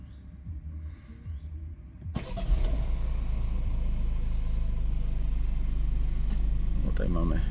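A 2016 Peugeot 508 RXH with the 2.0 BlueHDI 180 hp diesel cranks and fires after about two seconds, then settles into a steady, loud idle rumble close by, with some speech in the quieter lead-in.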